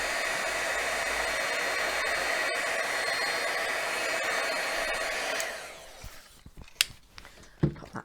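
A heat tool blows steadily and loudly on the back of a paper card for about five seconds, then switches off, leaving a few clicks and light handling sounds.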